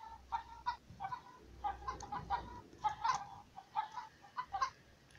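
Chickens in the mobile game Egg, Inc. cluck in a rapid, choppy series of short synthetic-sounding calls, moderately loud, with no speech.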